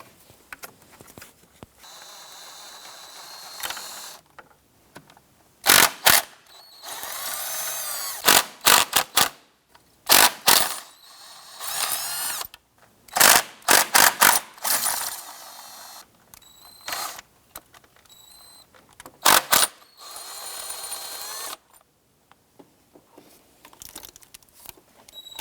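Ratchet loosening 8mm intake bolts on a Ford Five Hundred, heard as repeated short bursts of clicking and rattling that come in uneven clusters, close and fairly loud, with quiet gaps between them.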